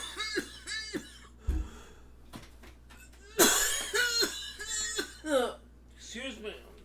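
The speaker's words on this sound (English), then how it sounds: "I'm coughing up a lung here." Someone talks in bursts, breaking off for a few sharp coughs and throat-clearing sounds, one loud harsh cough near the middle.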